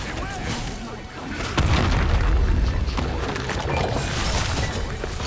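A deep booming bomb blast in the Smite game on PS5, a sudden heavy thump that rolls into sustained rumbling and crackle, with a voice talking over it.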